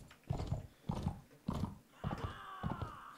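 Horse hooves galloping in the Mount & Blade With Fire and Sword video game, a steady rhythmic clip-clop of repeated thuds, close and fairly loud, with a bright whinny-like tone rising late in the run.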